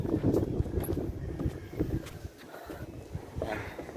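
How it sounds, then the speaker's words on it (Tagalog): Gusty wind roars across the microphone with low rumbling buffets, steady throughout, with faint background sounds beneath. "So yun mabuti medyo mahangin ngayon ah"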